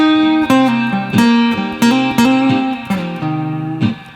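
A minor blues guitar solo on a Hyvibe Smart Guitar plays loud and close over a looped backing, with plucked notes, slides and bends landing every half second or so, no voices.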